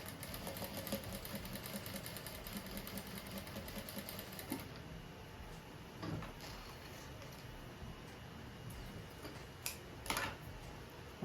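A new sewing machine runs slowly along a seam on a simple rug, sewing a straight line with a backstitch. The motor hum stays steady and close throughout, with a few clicks near the end.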